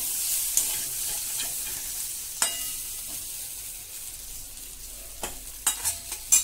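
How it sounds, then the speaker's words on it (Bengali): Vegetables for a Bengali niramish chorchori, with spices and slit green chillies, frying in a pan: a soft low sizzle broken by sharp scraping stirs, growing more frequent toward the end, with no talk. "মশলা দিয়ে ভাজা ভাজা হয়ে গেছে।"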